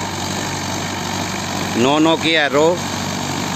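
A Solis 5724 tractor engine runs steadily at a demo in a village in Sonipat, Haryana, a constant mid-pitched drone throughout while someone talks briefly over it.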